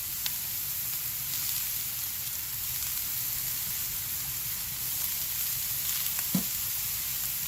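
Peppers and onion with a little oil, salt and pepper sizzle steadily in a pan, a continuous hiss with a few faint clicks of stirring.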